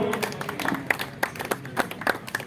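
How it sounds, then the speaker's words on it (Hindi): Applause for an honoured mother at a Maharana Pratap Jayanti felicitation ceremony, with scattered claps in a steady patter, moderately close and not very loud. "माता जी का सम्मान आपकी जोरदार तालियों के साथ हो"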